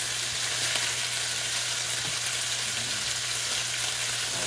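Steak strips sear in a hot pan with a steady, dense hiss and crackle, close and continuous, accompanied by a low constant hum and no talking.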